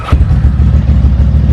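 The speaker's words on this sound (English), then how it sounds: "This is a Ducati engine, it's a 900 SS engine." A Cagiva motorcycle with a Ducati 900 SS engine and dry clutch revs up close, giving a loud, deep, throbbing engine rumble for a brief moment.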